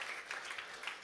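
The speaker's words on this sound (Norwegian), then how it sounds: "Ekstra applaus til vinneren." An audience at an award ceremony applauds the winner of a construction-industry honorary prize. The brief, faint, even patter of many hands sounds somewhat distant and comes without talk.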